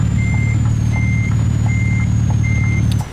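A truck reverses with its backup alarm beeping four times in a slow steady rhythm over a loud, low engine rumble from close by, with a faint thin whine above.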